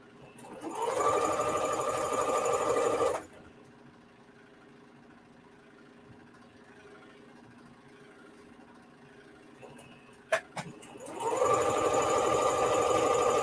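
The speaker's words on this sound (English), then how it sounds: "fixing my elastic underneath the collar of my shirt or the yoke of whatever part of the shirt and sewing this" Sewing machine stitching elastic beneath a shirt collar: two steady bursts of fast mechanical whirring, close and clear, separated by a quiet pause with small clicks as fabric is handled.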